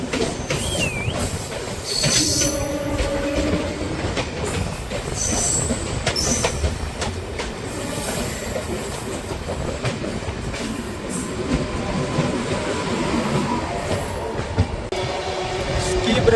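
The Dhauli Express runs from Puri toward Shalimar, heard from inside with a loud, continuous rumble of wheels on track, metallic squeals and clatter, and faint voices in the background.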